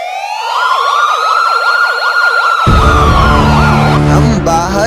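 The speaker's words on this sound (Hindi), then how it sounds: "हमें पुलिस के सायरन की आवाज सुनाई देती है।" A loud police siren wails in repeated rising and falling sweeps, then a low rumbling engine joins and the tone changes to faster yelps, close and dominant.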